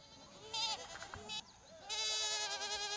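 Goats bleat on a livestock farm raising goats, two drawn-out wavering bleats at moderate distance, the second longer, over a low background hum with no talking.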